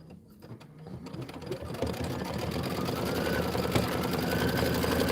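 An embroidery machine stitches out letters for an autumn banner, a close, steady mechanical whir and rapid needle rattle that builds slightly and runs continuously.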